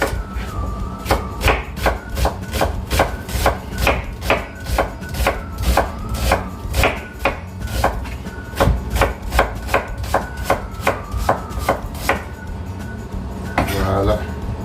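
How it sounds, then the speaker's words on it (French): Rapid, regular knife chops on a cutting board as an onion is cut, dozens of crisp strikes in steady rhythm, close and loud, pausing briefly near the end. "et couper notre oignon."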